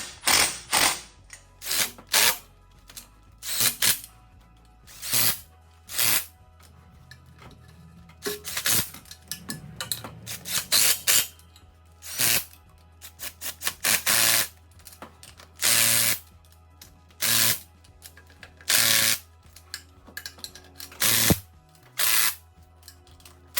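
A hand ratchet runs in manifold bolts on an engine block in a garage: short bursts of crisp clicking come one after another, separated by pauses, close and clear over quiet background hum.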